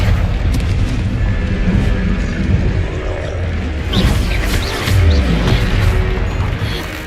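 Confringo fire spell explosions in the video game Hogwarts Legacy, loud booming blasts and crashing debris over a dense, continuous battle din, with a heavier impact surging midway.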